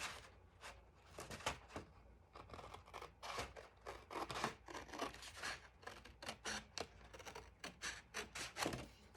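Scissors snip through printed cardstock as a tag is cut out, giving quick, close, crisp cuts in an irregular rhythm with short pauses between bursts.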